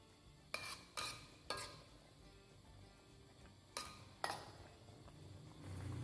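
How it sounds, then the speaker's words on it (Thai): Pumpkin shoots stirred into a pot of Thai curry (kaeng om): a handful of spaced utensil scrapes and knocks against the pot over a faint simmering background, quiet and close. "คนให้ยอดฟักทองของเราจมน้ำดีเลยนะคะ"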